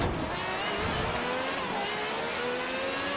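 Quartz Regalia car engine racing in Forza Horizon 4: a steady, sustained engine whine and road roar, loud and constant, with pitch slowly climbing as it accelerates.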